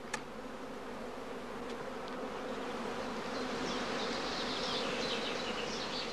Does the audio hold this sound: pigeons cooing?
no